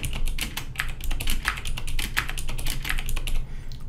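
Fingers type on a computer keyboard at a steady pace, quick clicking keystrokes close to the microphone with a few heavier taps, while someone enters CSS grid values and no one speaks.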